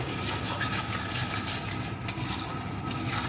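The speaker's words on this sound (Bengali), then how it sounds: "এখন এই সব কিছু একটু কষিয়ে নেব" Spices with turmeric and salt are sautéed in a pan for a lote fish curry, giving a continuous dense scraping and sizzling with a spoon rubbing against the metal, steady and close.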